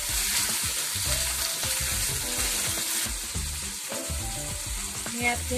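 Onion and tomato fry with salt in a pan for Malvani sukka chicken, giving a continuous close sizzle broken by rhythmic scraping and stirring strokes.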